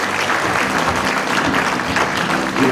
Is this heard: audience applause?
yes